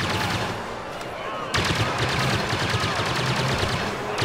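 Pulse rifle fire in the video game Star Wars Battlefront (2015): a quieter stretch gives way to loud, rapid automatic shots that continue steadily to the end, with faint background voices.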